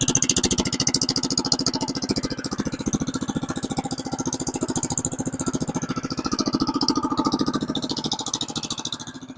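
An engine with a newly fitted exhaust idles while warming up, a steady, close, rhythmic low chug with a rapid even pulse and no voices.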